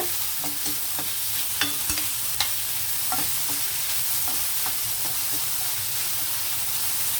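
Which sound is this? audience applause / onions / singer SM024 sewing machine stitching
onions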